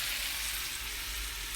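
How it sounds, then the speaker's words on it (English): Steady, close sizzling and crackling of ground beef browning in a hot pan, continuous and even with no talking. "while my hamburger is browning"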